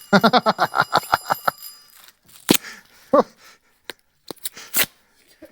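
A bicycle bell rings rapidly at first, bright metallic dings in quick succession, then a few scattered clicks and single tings follow.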